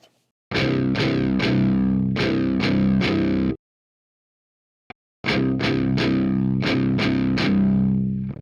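A Marshall JCM2000 amp with the deep button engaged pushes heavily distorted electric guitar chords in two loud strummed phrases separated by a silent gap, each with thick sustaining tone.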